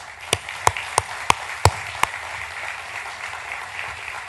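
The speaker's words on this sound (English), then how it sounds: "So let's please give our families a round of applause." Applause at a military enlistee recognition ceremony: a few loud, evenly spaced claps over a soft, steady bed of distant crowd clapping.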